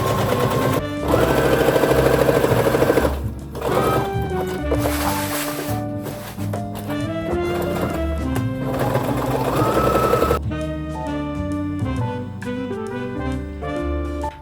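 A sewing machine stitching a dress's side seams around a pocket runs in steady, close mechanical bursts, with its speed rising and falling, under background music.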